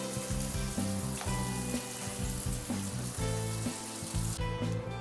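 Fish sizzles in hot oil for a Chennai-style fish fry, a steady crackling hiss that runs the whole time beneath a layer of tonal background sound.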